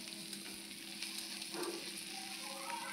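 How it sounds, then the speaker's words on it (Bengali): Onions with garlic paste frying in a pan give off a steady, dense sizzle that holds throughout, with a brief stirring scrape midway and no voices. "এইবার পেঁয়াজ আর রসুনগুলোকে ভালো করে একটু ভেজে নিচ্ছি।"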